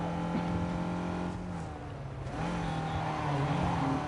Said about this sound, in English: This car is the strangest sound.